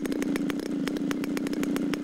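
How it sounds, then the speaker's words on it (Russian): Engine of the largest drone aircraft in Omsk roaring at a festival display, a steady loud droning motor with a rapid pulsing rhythm, close and continuous with no talk. "Ревет мотор самого большого беспилотника в Омске."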